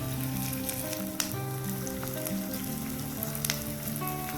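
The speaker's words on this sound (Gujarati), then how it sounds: "જોઈ લો આ રીતે આપણો ગુંદ તળાય છે" Edible gum (gond) frying in hot oil for Gujarati gundar paak, a steady close sizzle throughout with occasional sharper pops and crackles.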